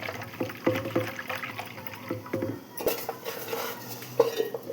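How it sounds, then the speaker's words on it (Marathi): Yogurt and water are whisked in a metal pot for kadhi, with irregular clinks and scrapes of a utensil against the pot and soft liquid stirring, close and fairly quiet with no voices. "लागेल तेवढं पाणी आपण टाकून ते चांगलं घोटून घ्यायचं आहे कढीसाठी"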